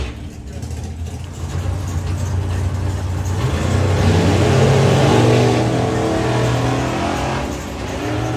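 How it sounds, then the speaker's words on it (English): A drag racing car launches wheels up at a festival drag strip, its engine roar building loud and steady, then swelling and rising in pitch as it accelerates away, with a commentator's voice over it. "Big wheels up launch there for Chalk"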